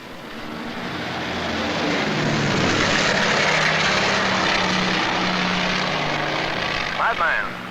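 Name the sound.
navy carrier planes flying during search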